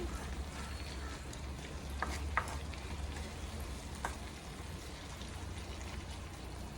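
Mango pickle cooking in oil in a pan on a stove, a steady close sizzle and bubbling with a low hum underneath and a few brief clinks partway through.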